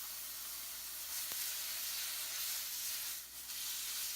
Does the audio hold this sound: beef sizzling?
yes